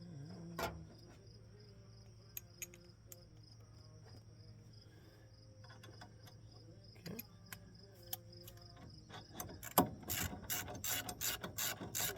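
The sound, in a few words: ratchet tightening Trans Am brake bracket bolts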